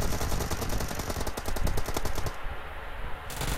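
Rapid automatic gunfire in the mobile battle royale game PUBG Mobile, dense bursts of fast shots over heavy noisy game audio, with short pauses between volleys.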